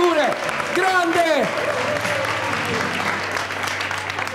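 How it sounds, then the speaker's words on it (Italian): An audience at an event breaks into steady applause as theme music fades out, with sweeping tones at first and then a continuous close wash of clapping throughout. "Sfuma la sigla e c'è l'applauso."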